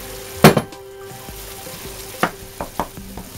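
Burrito filling sizzles in a frying pan while being stirred, with a steady frying hiss broken by a few sharp scraping clinks of the utensil against the pan.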